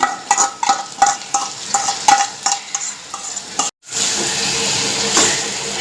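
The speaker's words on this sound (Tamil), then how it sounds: "அரைச்சி வச்ச பேஸ்ட்டை போட்டு வதக்கிக்கலாம்" Busy frying and stirring of ground masala paste in a pan for egg masala, with scraping strokes over a steady sizzle that swells louder after a brief pause.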